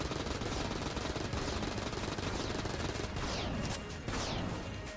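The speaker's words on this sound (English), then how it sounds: "You can really get a feel for the klobb here because I'm hitting them with all my bullets." Rapid, dense gunfire from the Klobb weapon in Mod the Gungeon fires continuously and loudly, with overlapping shots and game effects packed together and no speech.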